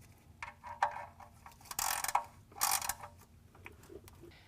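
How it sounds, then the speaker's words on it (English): Ratchet clicking while an oil drain plug is snugged back into the oil pan during an oil change, short bursts of metallic ratcheting close by with pauses between them. "Now put the plug back in the pan and tighten it so that it's snug"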